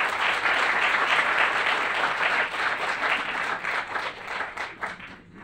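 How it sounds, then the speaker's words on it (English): An audience in a planning commission chamber breaks into applause after a public speaker, clapping loud at first, then fading and thinning into scattered claps. "Please hold the applause."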